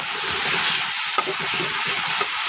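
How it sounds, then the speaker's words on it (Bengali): Tomato goes into hot oil tempered with cinnamon and cloves, and a loud steady sizzle fills the space with soft stirring scrapes and a brief knock partway through, with no voices. "দারচিনি লবঙ্গ ফোড়ন দিলাম আর এখন দিয়ে দিয়েছি টমেটো"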